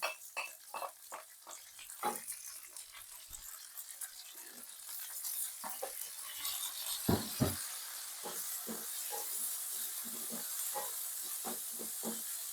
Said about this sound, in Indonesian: Tumis hingga layu ya teman-teman